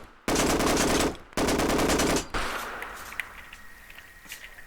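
Machine gun fire in the Operation Harsh Doorstop game, two loud sustained bursts of rapid automatic shots, each about a second long, followed by fading echoes and scattered smaller clicks and pops.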